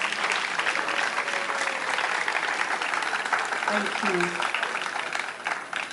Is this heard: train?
no